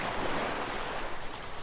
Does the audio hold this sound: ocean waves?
yes